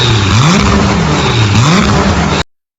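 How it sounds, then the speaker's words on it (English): A Porsche supercar's naturally aspirated, Le Mans-derived V10 revs loudly and close by, climbing and falling in two rising sweeps before cutting off abruptly. "naturally aspirated V10, a Le Mans-derived engine that was never meant to be street legal"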